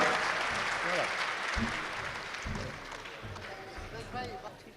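Audience applause greets a singer taking the stage, a steady dense clapping that holds throughout, with crowd noise and faint voices mixed in.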